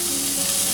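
Chopped scallions hiss and crackle in hot oil in a wok while being stirred, a brief, close, continuous sizzle with no talk.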